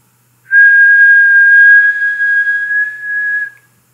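A steady 1,000 Hz test tone generated by a computer mouse, loud and pure, holding unbroken for about three seconds before stopping, with no other sound around it.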